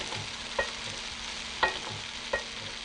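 Prawns, noodles, leeks and bean sprouts stir-fry in a pan, a steady sizzle broken by three sharp scrapes or clanks of the utensil tossing the food, close by with no talk.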